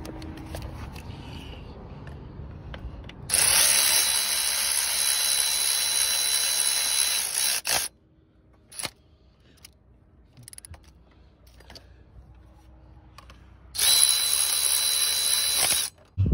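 Power tool driving the power steering pump bolts on a 2005–2008 Pontiac Grand Prix GXP: two loud sustained whirring bursts of several seconds each, separated by quieter clanks and handling noise, with no talk.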